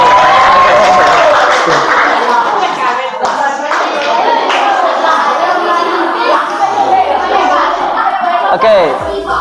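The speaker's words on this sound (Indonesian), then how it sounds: "Ya silakan, tepuk tangan sama siapa Yus?" A classroom group clapping hands during a teacher supervision session, continuous close applause mixed with lively voices and chatter throughout.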